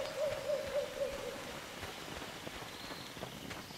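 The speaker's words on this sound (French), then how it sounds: "bruits d'environnement qui sont plutôt sympas avec la chouette" An owl hoots several times in quick succession as night ambience in the video game Len's Island, soft and somewhat distant over a steady patter of rain and a small trickling river.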